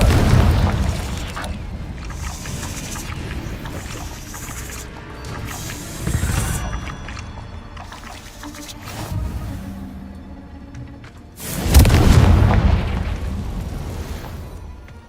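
Confringo fire-spell blasts in the video game Hogwarts Legacy: a few deep booming explosions with rumbling tails, the loudest burst near the end, spaced apart over quiet game ambience.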